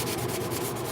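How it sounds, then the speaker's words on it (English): Steady, close hand sanding of the edges of a wooden sign, a continuous rough scratchy rubbing with a gentle back-and-forth pulse. "So I'm gonna do a little bit of sanding here to just kind of bring in the outside edges"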